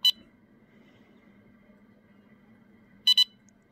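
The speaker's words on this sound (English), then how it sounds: "that double bleep there should mean that all of them are connected" Nash Siren R3 carp bite alarm receiver giving two short, sharp electronic bleeps, one at the start and a quick double pair near the end, loud and close over a faint background hum.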